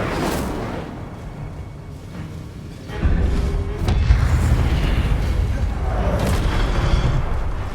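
A fire spell cast in the Hogwarts Legacy video game, a sudden deep whooshing boom that bursts in partway through and then rumbles on as a loud, sustained roar of flame and magical impact.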